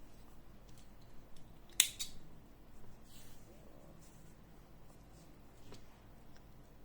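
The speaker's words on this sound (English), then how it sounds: "and cutting the yarn." A single sharp snip of scissors cutting crochet yarn, close and brief, against a quiet background.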